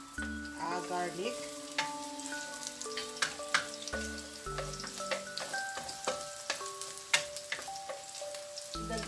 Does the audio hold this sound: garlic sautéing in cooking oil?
yes